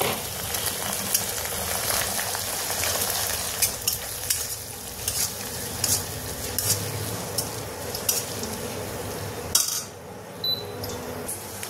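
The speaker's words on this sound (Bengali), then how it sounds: "এখানে মশলাটা ভাজা হয়ে গেছে" Ground garlic, ginger and onion spice paste frying in hot oil for Kasturi chicken, a steady close sizzle broken by repeated spoon scrapes and light clinks against the pan, with a brief pause near the end.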